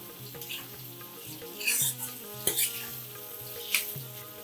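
Onions cooked with salt and turmeric are stirred in a frying pan, steady sizzling under repeated scraping strokes of a spoon, with a few louder clinks against the pan.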